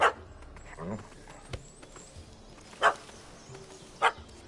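In the Astro Bot video game, a puppy barks at a cat up a tree, giving a few short sharp yaps spaced apart over quiet background, with a voice speaking softly in between.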